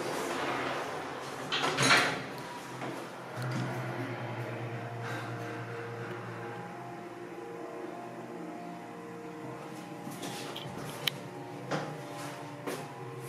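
A Toronto TTC subway station elevator motor drones with a steady low mechanical hum for several seconds, with faint clunks and a couple of sharp clicks near the end.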